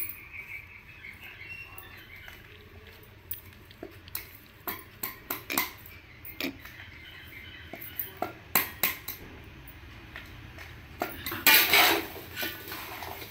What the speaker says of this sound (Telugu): వేసేసి మంచిగా కలుపుకుందామండి